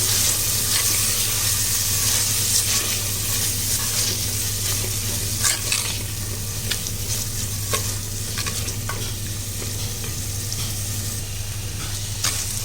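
A thick tomato and onion paste sizzles and bubbles in a clay pot for fish curry while a spoon stirs and scrapes through it, steady and close, with no voices.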